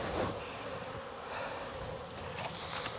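Honey bees buzz steadily around apiary hives in Jacksonville, Florida, a continuous close droning hum with individual bees passing nearer at moments, with no talking.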